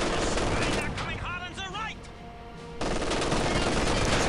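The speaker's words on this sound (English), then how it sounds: "Kill the machine gun." Machine gun fire in Company of Heroes 2, with dense rattling bursts that briefly give way to shouted battlefield voices before the heavy firing resumes loud and close.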